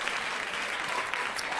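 A stand-up comedy crowd claps in a dense, steady wash of applause that fills the whole short stretch without breaks.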